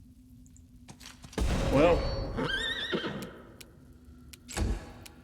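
A horse whinnies in a rising, wavering cry amid busy game sounds in Pathfinder: Wrath of the Righteous, with a sharp burst afterward as the horse is attacked, and a brief spoken word.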